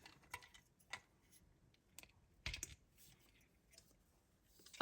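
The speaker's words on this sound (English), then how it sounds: "And the tail just clicks onto the back here." A plastic tail piece on a 1:100 scale Aer Lingus ATR 72-600 model snapping onto the fuselage, heard as several faint, sparse clicks close by in a quiet room.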